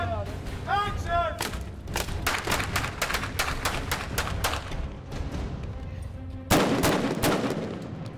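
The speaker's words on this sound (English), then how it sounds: "as you shoot, and it makes this bang, this loud noise" Prop gun firing blanks on a film set during a take: a rapid string of loud, sharp bangs in quick bursts, with a heavier blast near the end, over a murmur of crew voices.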